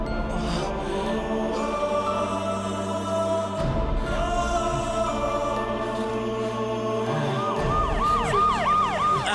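An ambulance siren wails loudly and close by in a Tamil street scene, its cycling tones repeating over the whole stretch with a dense traffic rumble beneath.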